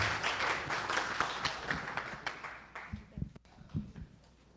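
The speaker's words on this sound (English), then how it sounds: "let's give a round of applause to John" Scattered audience applause after a talk at an AI for Designers event, thin and fairly quiet, a handful of claps that quickly fade into isolated slaps and room noise.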